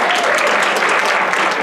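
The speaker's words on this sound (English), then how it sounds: "Give a round of applause" An audience at a live comedy show breaks into loud, close, continuous applause, with dense overlapping claps throughout the short burst.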